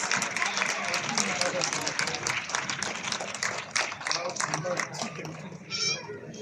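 A crowd claps steadily in a sustained round of applause for young nursery students at a school ceremony, dense and fairly loud, with voices mixed in.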